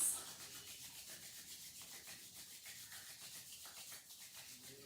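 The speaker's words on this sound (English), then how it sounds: "rub your palms. Create some heat." Palms rubbed briskly together during a yoga session to generate warmth, a soft, close, rhythmic swishing friction that repeats steadily in quiet surroundings with no talking.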